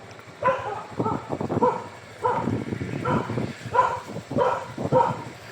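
A dog at a beach barks in several short bursts, a couple of rapid barks at a time, fairly close, with some yipping quality between them.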